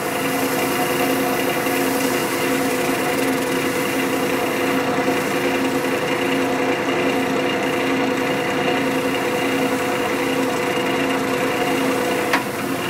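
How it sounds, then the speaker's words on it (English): A wood lathe spinning an osage orange vase at slow speed, giving a steady, even motor hum with a faint rubbing hiss over it, close and continuous and without a pause. "will turn the lathe on slow speed and then gradually increase my speed"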